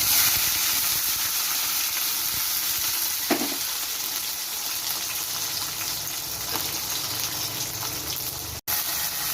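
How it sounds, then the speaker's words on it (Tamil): Onion and garlic sautéing in hot oil with fenugreek seeds for a yam kara kuzhambu, a steady close sizzle with a few stirring scrapes and a brief cut near the end. "வெங்காயம் பூண்டும் நல்லா வதங்கிடுச்சுங்க"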